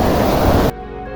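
Hussainabad waterfall rushing as a loud, dense roar of falling water close by, which cuts off abruptly partway through to much quieter background.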